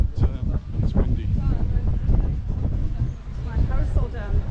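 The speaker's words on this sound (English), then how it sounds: "Oh, it's getting windy here, very, very windy." Strong coastal wind at Cala Ratjada, Mallorca, buffeting the microphone in a continuous low roar while someone talks over it.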